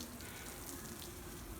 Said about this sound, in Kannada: ಈಗ ನೀರನ್ನ ಆನ್ ಮಾಡ್ತಾ ಇದ್ದೀನಿ